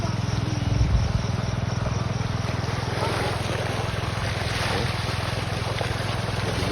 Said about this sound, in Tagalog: kailangan magpasipsip sa water pump sa kanal